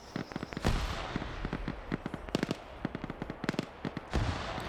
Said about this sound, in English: He's returning with his own grenades.